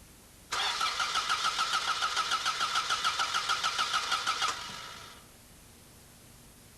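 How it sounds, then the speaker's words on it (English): A car engine on a TCCS fuel-injection system cranks on the starter for about four seconds, a steady rapid pulsing whir that cuts off and then fades briefly, with no talk. "Now, let's crank the engine"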